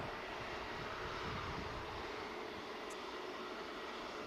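An EasyJet airliner taxies at Manchester Airport, its engine noise a steady, even broadband rumble and hiss that holds at moderate distance throughout, with no voices.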